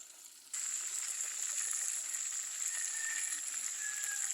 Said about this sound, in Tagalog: malapit na uminit ang mantika. And guys ha, prito na tayo.